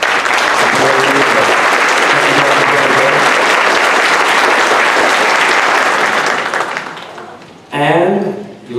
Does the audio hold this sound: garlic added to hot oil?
no